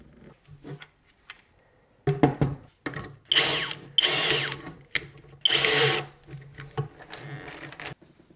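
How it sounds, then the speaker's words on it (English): A power tool tapping threads into the nine holes of a Prusa Y carriage base, several short whirring bursts that start and stop in an irregular rhythm, loud and close with quiet pauses between. "I'm going to see about tapping these holes, all nine of them, with this kit."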